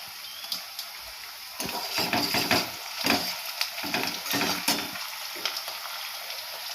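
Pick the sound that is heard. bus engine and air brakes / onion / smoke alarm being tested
onion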